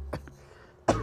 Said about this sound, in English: I had a, like, coughing fit right there